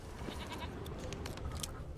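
A goat named Princess in The Witcher 3 video game, with short faint bleats over a low, rumbling outdoor ambience.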